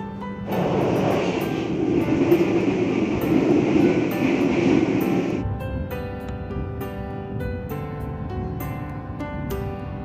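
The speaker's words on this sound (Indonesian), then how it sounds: "KA Bogowonto kembali diberangkatkan dari Stasiun Kebumen jam 4:18." An economy-class passenger train departs a station in Kebumen, Indonesia, with a loud rolling rumble for about five seconds that then gives way to quieter, rhythmic clicks and clatter of the wheels.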